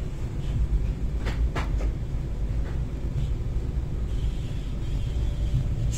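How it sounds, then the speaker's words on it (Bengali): A high-speed train departs in China, heard from inside the carriage as a steady low rumble and hum with a few faint knocks. No one speaks. "এই সবে মাত্র ট্রেন ছাড়ল।"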